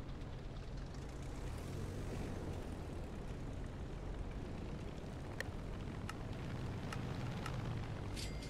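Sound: airplane in the video game Navy Simulator

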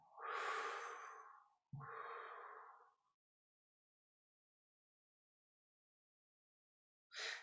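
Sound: slow breathing, inhaling and exhaling

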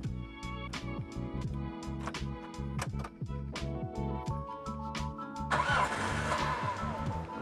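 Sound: Daihatsu Taruna CSX 1999 engine starting

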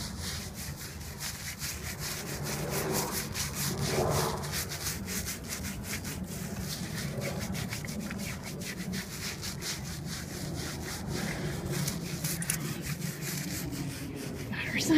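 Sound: shampooing a Staffordshire Bull Terrier's fur during a bath

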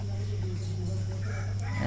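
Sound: chickens and rooster on a farm

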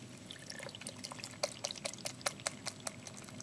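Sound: pouring liquid over the edge of a container

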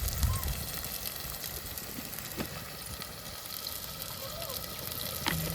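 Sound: onions and prawns sautéing in a pan

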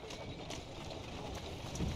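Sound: horse hooves clip-clopping in video game Assassin's Creed Syndicate

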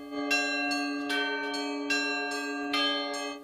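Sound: church bells of the Pokrovska church being rung

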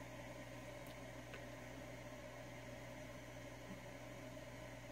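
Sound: white noise from an FM radio tuned between stations

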